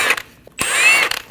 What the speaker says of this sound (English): remove the 5 lug studs